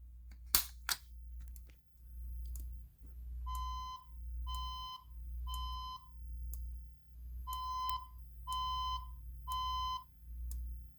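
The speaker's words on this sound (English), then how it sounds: "pull the fire alarm and see it works" An EST Genesis fire alarm speaker strobe sounds in repeated groups of three sharp electronic beeps, separated by pauses, over a low pulsing hum in a quiet room.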